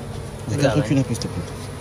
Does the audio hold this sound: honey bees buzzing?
yes